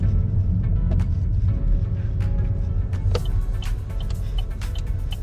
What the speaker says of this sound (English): there's a bit of acceleration, a bit of rumbling noise for you